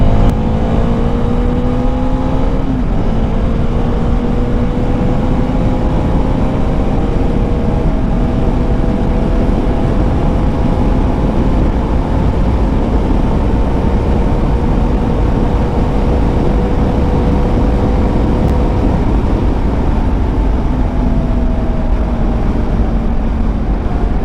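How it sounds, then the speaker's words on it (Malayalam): A car engine revs hard at high speed, climbing to about 152 km/h, as a loud continuous drone whose whining harmonics rise and sag steadily for the whole stretch, with no voices. "വണ്ടിയുടെ സൗണ്ട് കൂടെ നോക്കിയോ"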